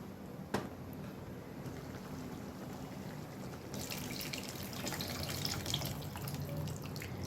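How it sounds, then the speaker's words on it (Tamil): Tamarind water is poured into a pot of simmering vatha kuzhambu, a steady liquid splash that grows louder and more spattery partway through, with a small clink near the start. "இப்போ புளி தண்ணி சேர்த்தாச்சு."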